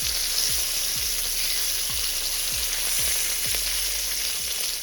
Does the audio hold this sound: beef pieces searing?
yes